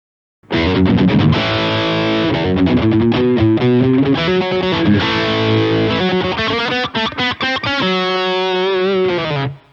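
Electric guitar through a Nobels ODR-1 stacked with an Ibanez Tube Screamer, heavily driven with thick, compressed distortion, plays a chordal riff with muted staccato hits toward the end, loud and unaccompanied.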